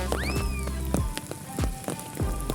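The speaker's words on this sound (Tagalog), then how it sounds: "it's raining." Rain falls outdoors at a school intramural event, a steady dense patter of drops under a passing whistle-like tone, with no voices.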